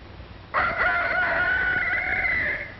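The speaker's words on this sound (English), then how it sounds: "Very early in the morning, the rooster sends out his call" A farm rooster gives a single drawn-out cock-a-doodle-doo in the early morning, fairly close and clear, rising after half a second of quiet and holding for about two seconds.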